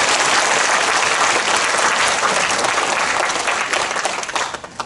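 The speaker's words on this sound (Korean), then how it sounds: "큰 박수로 맞이해 주시기 바랍니다." A full room of residents at a redevelopment briefing in Mapo district claps loudly to welcome the district mayor, a thick, continuous burst of applause that tapers off at the end.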